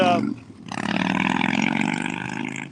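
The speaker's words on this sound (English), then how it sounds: "damn, that's a loud motorcycle." A loud motorcycle roars past close by, its engine note swelling into a sustained heavy rumble and fading only slightly toward the end, after a brief voice at the start.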